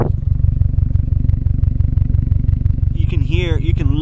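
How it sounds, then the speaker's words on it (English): 2020 Subaru STI exhaust idling with a steady, pulsing low rumble and a rhythmic metallic rattle from the heat shield, with someone talking over it near the end. "You can literally hear the what's it called, the heat shield rattling."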